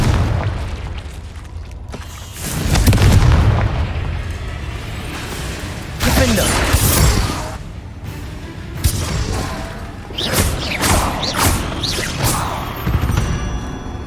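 Confringo fireball spells exploding inside a cave in Hogwarts Legacy, several heavy booms and crashes spread across the stretch, each swelling and fading amid rumbling echoes.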